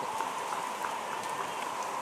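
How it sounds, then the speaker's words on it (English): Heavy rain pours steadily outdoors during a football match, a dense, even hiss with scattered drops pattering on nearby surfaces, continuous and fairly close throughout. "look how heavy that rain is. That is heavier than it was in the second quarter"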